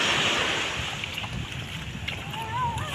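Ocean waves washing at the beach under strong wind buffeting the microphone, a broad continuous rushing surge with faint distant voices.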